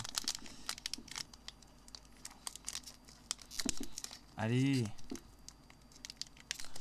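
A taped Wizards trading card booster pack is crinkled and torn open by hand close up, with soft rustling and bursts of plastic crackle, a louder rip near the end, and someone speaking in French between the sounds.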